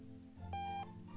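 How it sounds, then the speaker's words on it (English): A ringing alarm clock in the video game Octodad gives one short electronic beep-tone of about a third of a second. It sounds faint and sits over a low, steady background hum. "No more ringing alarm clock, let's go!"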